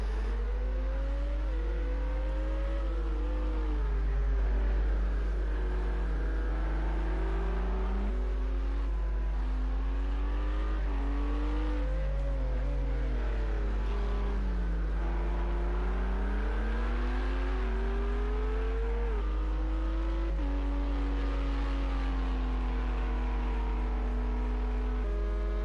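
Race car engines whine and rev through gear changes during LMP2-class qualifying at COTA in the Project Cars video game, a steady layered drone of several cars rising and falling with no talking.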